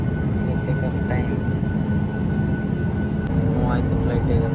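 A passenger jet rolls along an airport runway for takeoff, its engines giving a steady, loud broadband roar throughout, with people's voices mixed in under the noise.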